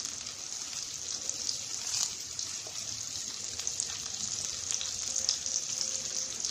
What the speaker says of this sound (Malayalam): അതുപോലെ തന്നെ കറിവേപ്പില ഇട്ട് കൊടുക്കാം.